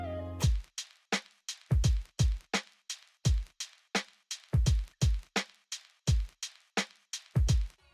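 A boom bap drum beat programmed in FL Studio, with a steady loop of punchy kicks and snare hits under ticking hi-hats that bounce with alternating velocity, clean and upfront with no voice.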